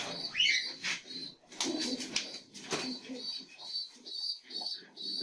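Pigeons cooing and chirping close by while someone speaks Arabic over them, with occasional rustling and wing flutters.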